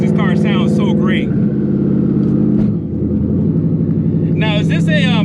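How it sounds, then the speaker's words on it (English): A twin-turbo SN95 Mustang Cobra with its exhaust dump open rumbles loudly and steadily up close, a deep continuous engine drone while people talk over it. "his car sounds so great"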